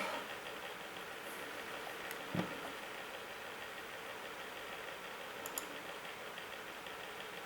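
A damaged electric air blower runs with a steady broadband whoosh and hum, broken by a couple of faint brief ticks.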